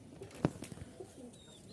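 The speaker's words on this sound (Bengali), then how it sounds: "তো এই হচ্ছে আমাদের কবুতর" Giribaz pigeons in a loft give a soft, low coo with one brief louder burst, set against quiet background noise.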